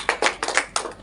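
A microteaching class plays a counting clapping game, giving several crisp group claps in a quick, uneven rhythm, close and loud with no talk over them.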